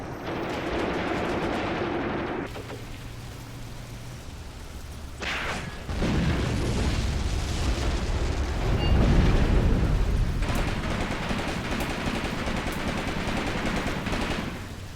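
Dense battlefield gunfire and explosions from the Eastern Front war game Graviteam Tactics: Mius-Front, with continuous rattling shots and heavy low booms, loud and chaotic throughout, a deeper rumbling burst swelling in the middle.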